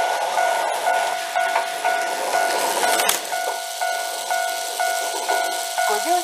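A toy Plarail train runs on a Japanese announcement-station playset, giving a continuous buzzing motor whir and rolling rattle with faint steady tones and small clicks, loud and close, with no speech.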